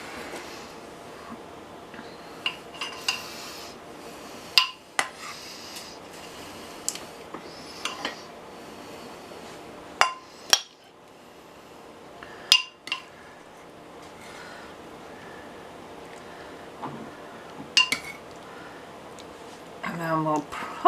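Clinks and taps of dishes, cutlery and a knife sound while freshly baked bread is sliced for a leftover bacon stew, scattered sharp knocks over a quiet room with a voice talking at times.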